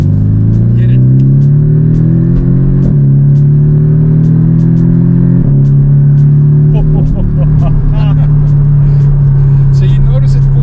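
A car accelerates hard in manual mode, its loud engine note climbing steadily and dropping back at each upshift, then climbing again, close and continuous throughout.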